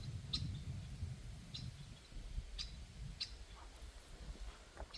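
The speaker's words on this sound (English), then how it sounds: "Loud bird." Sharp, high bird calls repeat at intervals from a distance beside a pond and mown pastures on the Appalachian Trail, over low rumbling background noise outdoors.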